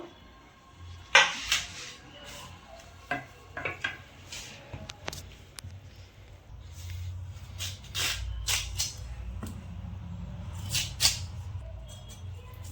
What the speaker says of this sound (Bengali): এই দেখুন আমি শালগমটা কেটে নিচ্ছি